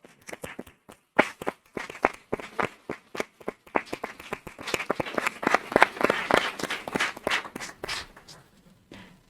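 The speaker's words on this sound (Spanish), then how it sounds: "también voy a pedir a todos en memoria de nuestro Paco Pento un aplauso." Audience at a talk claps in memory of someone, starting with a few sharp separate claps, then swelling into fuller sustained applause before tapering off to a last clap or two.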